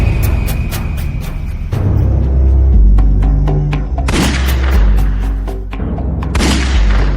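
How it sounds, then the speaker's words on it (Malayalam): A rapid series of sharp, loud gunshot-like cracks and deep booms, irregular and close, layered over a heavy low rumble. "അത് വെടിവെച്ചല്ലേ കേട്ടത്?"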